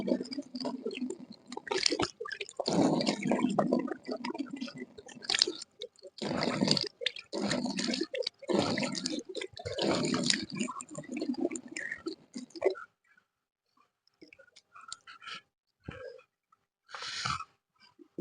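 Very cold water splashes and sloshes against a face in repeated scooping bursts for about thirteen seconds, close and wet, followed by quieter scattered drips and a couple of faint splashes.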